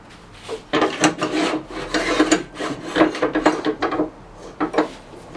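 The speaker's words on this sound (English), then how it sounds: "I'm going to do my final scraping to fit my ring core in with a screwdriver" A screwdriver scrapes a wooden ring core in a series of close, rasping strokes, each a short uneven burst of friction with brief gaps between.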